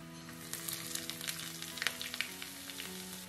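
Dried red chillies and sliced shallots fry in hot oil for a Kerala pineapple pachadi, a bright continuous sizzle with quick stirring scrapes layered on top, close and fairly quiet.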